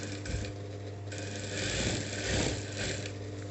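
A sewing machine runs steadily as it stitches the bottom hem of an A-cut garment, a close, continuous mechanical whir with rhythmic needle clatter and no talking.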